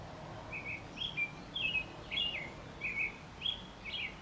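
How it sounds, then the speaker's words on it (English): An American robin sings a string of short, bouncy, whistled phrases, about seven in four seconds, fairly faint over soft background noise. "The mnemonic that we teach for the robin is a swinging cheerio, cheerily, cheerio, cheerily, cheerio, cheerily."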